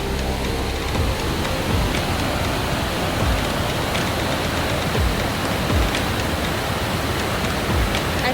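A waterfall along a Maui road trip route roars as a steady, broadband wash of rushing water, continuous and fairly close, with no voices.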